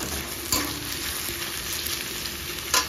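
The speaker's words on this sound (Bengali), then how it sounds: "আলু ভাজা হচ্ছে" Potatoes fry in a pan with a steady, even sizzle, broken by two sharp clinks of stirring, one early and one near the end.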